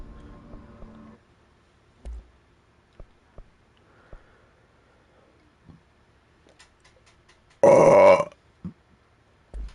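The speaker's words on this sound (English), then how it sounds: "I did not think my burp was going to be that fucking loud." One loud, close burp bursts out late, well above the near-silent background, with a few faint clicks and taps scattered before and after it.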